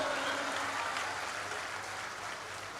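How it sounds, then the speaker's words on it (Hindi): An audience claps at a Hindi comedy poetry gathering, a diffuse, steady patter of applause heard at a distance in a large hall, slowly fading, with a low hum beneath it. "ताली बजाओ"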